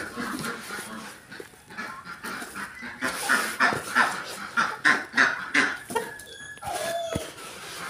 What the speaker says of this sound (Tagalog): Yan yung mga pabo natin, ah.